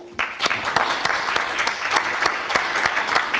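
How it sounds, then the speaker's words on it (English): Applause at a town meeting: a sudden burst of clapping from a modest crowd, sustained and fairly close, with distinct individual claps audible in the mix. "I think you deserve a round of applause."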